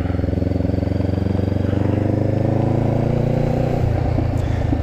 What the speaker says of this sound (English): It is a fuel-injected 471cc bike with 46, 48 horsepower, somewhere around in there.